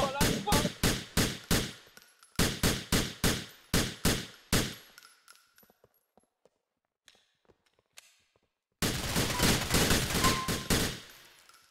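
Gunfire in the video game GTA IV comes in rapid bursts of loud, close shots in regular rhythm, pauses for several seconds of near silence with faint clicks, then resumes in a dense sustained volley.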